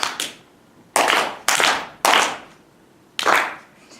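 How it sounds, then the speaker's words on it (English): Audience claps together in unison at a presentation, five sharp collective bursts of hand clapping with short pauses between, close and loud, no talking. "I just would like you to clap when I clap"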